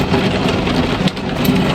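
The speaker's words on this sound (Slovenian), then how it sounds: "Prav toča je, lep pada." Hail pours down during a thunderstorm, a dense, steady, loud clatter of stones on surfaces with a continuous rushing roar and no speech.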